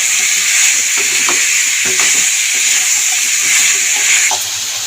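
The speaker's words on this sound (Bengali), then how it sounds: "বেশ কিছুক্ষণ ধরে নাড়াচাড়া দিয়ে সবজি আর চিকেন সব একসাথে ভেজে নিয়েছি" Vegetables and chicken stir-fried together for a chicken soup, giving a steady loud sizzle with scattered scrapes and clinks of stirring throughout.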